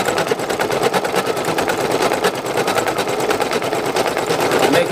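Embroidery machine stitching a tiny test patch, a rapid, even mechanical needle chatter running steadily and close throughout, with some talk faintly underneath.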